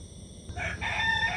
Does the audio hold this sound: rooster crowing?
yes